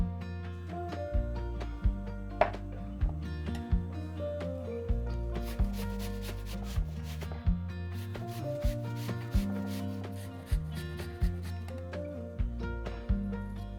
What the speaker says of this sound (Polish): Obraną marchewkę i jabłka ścieram na tarce na dużych oczkach